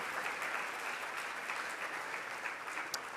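Steady audience applause fills a luncheon hall at an annual meeting, greeting Boston Mayor Marty Walsh and his team, a dense, even wash of clapping that holds at moderate level throughout.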